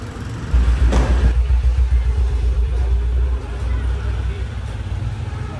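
A goods vehicle loaded with firecracker stall stock drives along with a loud, steady low engine rumble and road noise. A brief rushing burst comes near the start, and voices murmur underneath.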